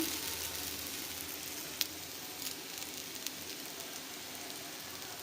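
Prawn-head fritters sizzle in hot oil in a pan, a steady soft crackling hiss throughout with a few sharp pops and spits standing out, and no voices present.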